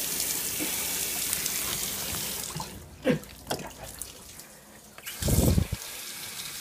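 A sink tap runs steadily while hands are washed with soap indoors, a continuous close rush of water broken by a few brief splashes and a louder gush near the end.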